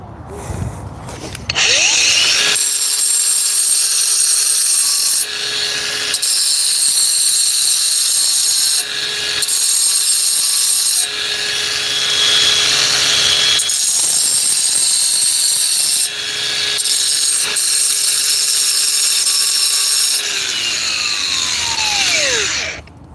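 Coarse 60-grit sandpaper grinds loudly and continuously against a surface in long rasping passes with a few brief breaks, close up and harsh.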